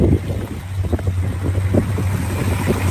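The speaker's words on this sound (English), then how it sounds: "there's the engine, sounds good. Runs nice and smooth." A muscle car fitted with headers runs smoothly at a steady idle, giving a constant low, even rumble with light wind noise over the top.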